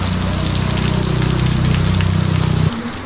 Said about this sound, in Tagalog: Grabe, biglang lumakas yung ulan ah.